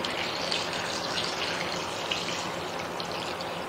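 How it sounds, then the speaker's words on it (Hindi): Water poured from a tap into a large vessel of strawberries to soak them, a steady close gushing flow running the whole time with no talk. "किसी बड़े बर्तन में इसको डालें और इसको पानी में भिगो दें"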